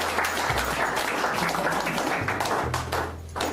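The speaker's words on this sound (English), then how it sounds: "Aaron deserves a bit of a round of applause" A small group gives a round of applause for a crew member, the clapping dense and steady throughout at moderate distance, with a low hum underneath.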